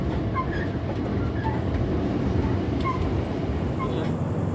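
Heard from on board, the Brawijaya executive passenger train runs on a speed-restricted stretch of line. It makes a continuous low rumble with steady rail noise and faint rhythmic clicks.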